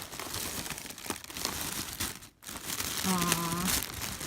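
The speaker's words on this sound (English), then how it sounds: "she has it wrapped in yellow tissue paper" Yellow tissue paper crinkles and rustles steadily as a package is unwrapped, close and fairly quiet, with a short pause midway.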